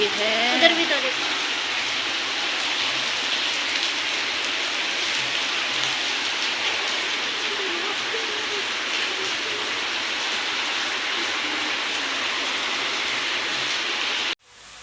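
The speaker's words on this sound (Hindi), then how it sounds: "तेज बारिश हो गई है, उधर भी तो देखो।" Heavy rain pours down outdoors as a steady, dense hiss that holds at an even level for nearly fifteen seconds, with faint voices briefly audible near the start before the sound cuts off abruptly at the end.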